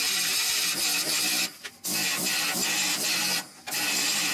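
An angle grinder's disc works a rusted core support on a 1969 Chevrolet C10, giving a loud, close, continuous grinding rasp. It cuts out briefly twice, then resumes, with no speech.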